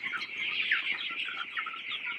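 Chickens on a winter-morning poultry farm cluck and chirp continuously in a dense, close chorus, with no voices.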